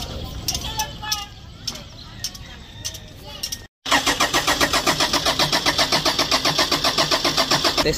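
A Toyota Innova engine, just serviced with its EGR cleaned, cranks and catches after a brief silence, then runs in a steady, loud, rhythmic idle close by, following some earlier background noise.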